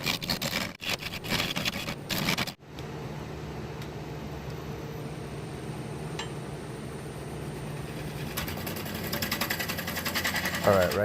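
Wood lathe spinning a magnolia pulley blank while a tool shapes a tenon on its base, a steady mechanical hum with rhythmic cutting texture and a few sharp knocks early on, under occasional talk.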